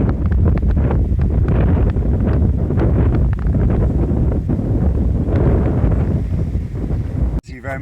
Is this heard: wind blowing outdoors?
yes